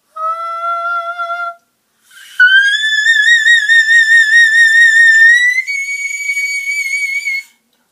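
A voice imitates a whistle-register high note: a short piping tone, a brief pause, then a longer wavering sustained note that steps higher near the end, loud and close with no talking.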